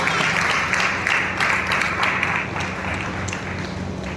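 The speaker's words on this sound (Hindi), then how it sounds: "ताली बजा के यीशु मसीह को महिमा देंगे।" A church congregation at a Sunday service claps together in a steady, rhythmic beat, loud and sustained, easing slightly toward the end, with a low musical hum underneath.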